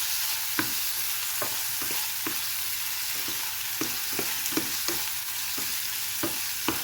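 Pakbet vegetables stirred in a frying pan, a steady sizzle broken by sharp utensil scrapes and taps repeating every half second or so, close and without talk.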